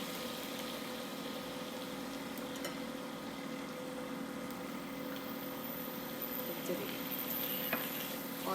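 Onions fry in a pan for gravy, giving a steady, low, continuous sizzle with an occasional faint tick of the utensil.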